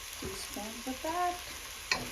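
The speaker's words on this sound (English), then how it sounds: "And then let's stir it nicely." Okra fries in a pan with a drop of oil and masala while being stirred, a low, steady hiss with faint scraping and a small clink near the end.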